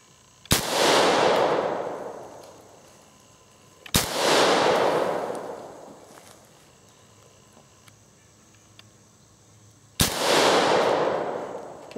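An AR-15 rifle fires 55-grain Tula rounds at bottles outdoors. Three loud, sharp shots come at uneven intervals, and each one leaves a long booming echo that fades slowly.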